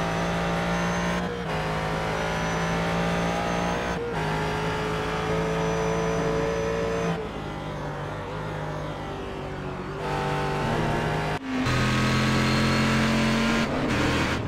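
Ford race car engines at Sonoma Raceway, loud sustained high revving with repeated gear-change dips and a sharp upshift near the end, heard alone with no speech.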